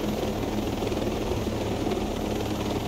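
A helicopter in Ghost Recon Breakpoint, with a steady droning rotor and engine that stays close and constant throughout, with no talking.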